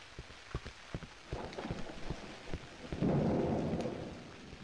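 Rain and rumbling thunder in the horror video game Cry of Fear: a steady downpour under several sharp cracks early on, then a broad, loud rolling peal that swells and slowly fades.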